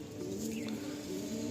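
A Madrasi breeder pigeon cooing softly, low steady rolling coos at close range in a quiet loft.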